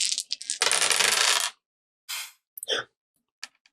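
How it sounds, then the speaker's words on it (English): Three dice rolled in a tabletop game, a long rattling clatter followed by a few short, sharp taps as they settle, close and clear with no talk. "So, go ahead and roll your 3 dice."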